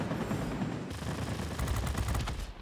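Centralized nose-mounted .50 caliber machine guns on a P-80A Shooting Star fire in a World of Warplanes dogfight, a dense rattle after a short engine drone, loud and rapid bursts closing out the moment.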